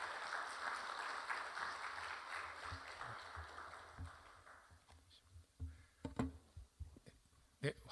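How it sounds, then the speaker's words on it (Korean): A church congregation at a Friday prayer meeting claps to welcome a missionary. The steady applause fades away after about four seconds and gives way to scattered knocks and footsteps in a quiet hall. "우리 선교사님 나오실 때 큰 박수로 환영하도록 하겠습니다."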